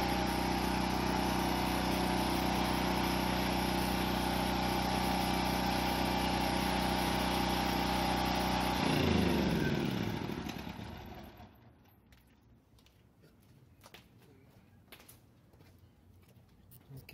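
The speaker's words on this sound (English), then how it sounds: "I'm gonna shut the generator off." Generator engine runs with a steady, loud, close drone for about nine seconds, then shuts off and winds down to near silence, leaving faint handling noises afterward; someone speaks.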